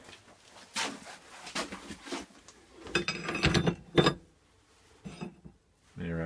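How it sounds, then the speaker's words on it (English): Briggs engine part turning in a lathe, with intermittent mechanical clicks, rattles and bursts of whirring that come and go between quieter gaps. "put it in the lathe here and see how it spins"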